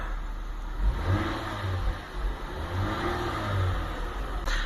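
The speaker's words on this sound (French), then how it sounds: "je vais accélérer un tout petit coup, vous montrer, ça fait vraiment pas de bruit." A Toyota Mark X 350S with a 3.5-litre V6 revs briefly with the hood open, giving a low, smooth, fairly quiet engine swell close by, with no talking.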